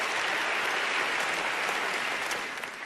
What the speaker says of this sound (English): I get a round of applause for that.